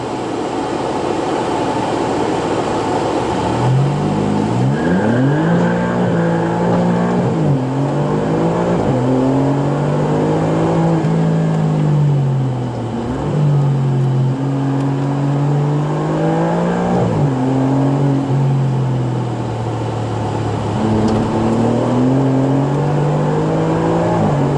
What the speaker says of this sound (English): Let's get some burnout action going.